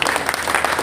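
Brief burst of loud applause from an audience at a community event in New York, steady clapping with no talk.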